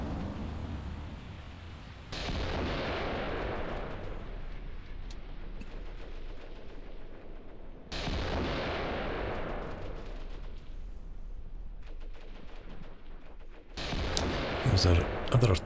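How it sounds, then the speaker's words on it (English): Artillery barrage in the war game Graviteam Tactics, heavy booming shell impacts arriving in several rolling waves with rumbling tails and scattered crackling gunfire in between. "Other artillery barrage coming in, and it does look like it's catching the odd Soviet troop."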